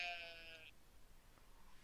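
In Stardew Valley, a farm sheep gives one short, faint bleat that cuts off after a moment, leaving quiet background hiss with no talking.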